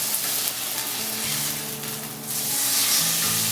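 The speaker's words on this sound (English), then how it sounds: "We are going to sear it. I just love that sound." Food sears in a hot oiled pan with a loud, steady sizzle that runs unbroken throughout, close and without any talk.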